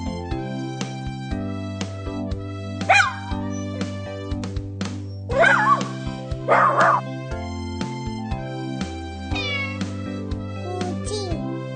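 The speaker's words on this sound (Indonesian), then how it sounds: "Anjing." A dog barks and yips in short bursts over a bouncy children's song, with cat meows mixed in among the animal sounds.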